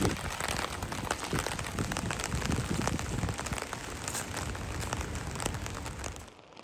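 Rain pours onto a street in Moscow at night, a dense close patter of drops on hard surfaces that stays steady throughout and drops away abruptly at the very end.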